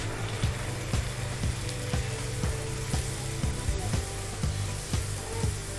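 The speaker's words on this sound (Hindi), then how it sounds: "और इसको मैं हाथों की मदद से ही बड़ी करके इसको ऑयल में डालूँगी" Puri dough frying in very hot oil gives a steady, close sizzle with a regular pulsing rhythm of soft bubbling bursts and no voices.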